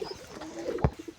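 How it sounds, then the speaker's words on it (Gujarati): A wild pigeon chick coos softly in short bursts, a brief low gurgling call rising near the end over faint background noise. "કબૂતરનું બચ્ચું નીચે આવી ગયું છે"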